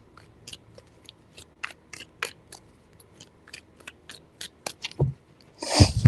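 Tarot cards are shuffled close by in a series of quick papery snaps and riffles, with a louder rustling burst at the end.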